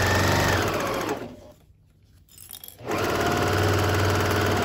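A sewing machine stitches along the outside edge of a fabric placemat, running steadily and close, pausing briefly in the middle before starting up again at full speed.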